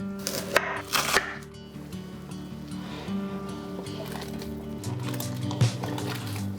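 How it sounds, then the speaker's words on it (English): A kitchen knife chops broccoli and Savoy cabbage on a board, with a few sharp, close chops near the start, then softer, scattered cuts over a steady background hum. "chopping up our broccoli and our Savoy cabbage"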